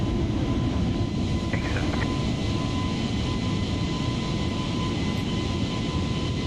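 Airliner engines in Microsoft Flight Simulator 2020 climbing after takeoff from Istanbul, a steady broadband roar with a faint tonal hum, continuous and unchanging, with a couple of faint clicks partway through and no talking.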